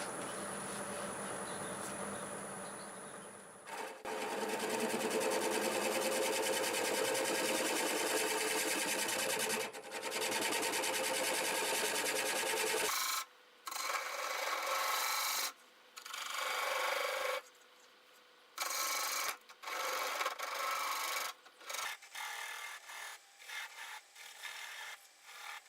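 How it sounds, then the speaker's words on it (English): Juniper spinning on a wood lathe, cut with a spindle gouge with a swept-back grind, gives a loud continuous rasping, scraping hiss for about thirteen seconds, then a series of shorter cutting bursts broken by brief pauses. "Now we'll remove the rest of this little nub. I'm going to switch to my spindle gouge with a swept back grind on it."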